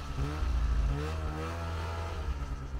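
Snowmobile engine revving under throttle, a loud, steady mid-pitched drone that swells early then holds at a rough, constant roar for nearly three seconds, close to the rider.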